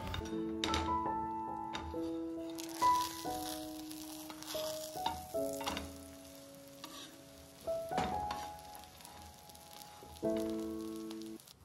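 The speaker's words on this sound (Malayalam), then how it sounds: "അപ്പോൾ ഇതാ മുട്ട പൊരിക്കാൻ വേണ്ടിയിട്ട് ഇട്ടിട്ടുണ്ട്." An egg fries in a pan in a home kitchen with a soft, steady sizzle and occasional stirring taps, partly masked by prominent melodic background music.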